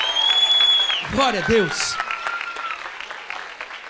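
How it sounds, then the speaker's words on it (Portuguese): Church congregation applauding the Lord during a Brazilian Protestant service, dense clapping filling the room beneath a preacher's voice, which rises briefly over the applause. "Você pode dar um aplauso ao Senhor Jesus aí no seu lugar."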